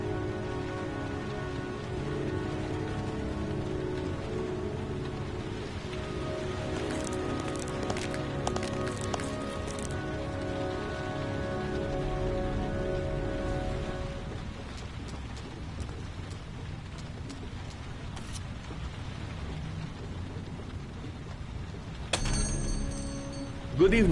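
Steady rain falls in the video game Heavy Rain, a continuous hiss under a sustained musical drone, with a brief sharp sound burst near the end.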